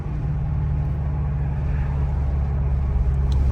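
Audi S8 with full bolt-on engine and exhaust modifications idling and burbling steadily, a deep, loud, close-up rumble held without pause.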